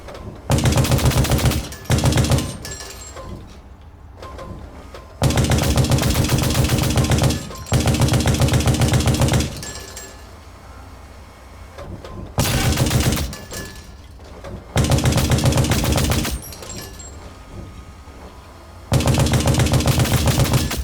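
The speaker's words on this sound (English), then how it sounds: "Let's start by using the coaxial machine gun on nearby enemies." Coaxial machine gun firing in Hell Let Loose: Vietnam, loud sustained bursts of automatic fire lasting a few seconds each, separated by short lulls of quieter background rumble, with no talk.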